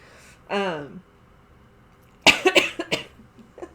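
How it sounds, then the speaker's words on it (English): A short vocal sound, then a burst of several quick, sharp coughs close to the microphone, followed by a faint trailing cough. "Now I'm going to start coughing."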